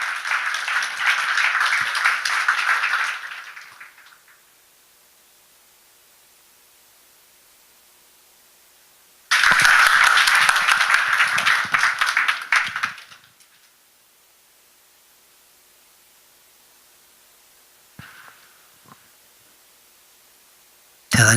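Audience at a church teachers' seminar breaks into strong applause, two long bursts of dense clapping lasting a few seconds each, separated by quiet, with faint scattered claps afterward.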